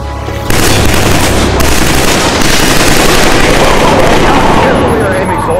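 Dense, continuous gunfire and booming blasts from Killzone 3 combat, loud and sustained for several seconds, with shouted soldier voices mixed into the barrage.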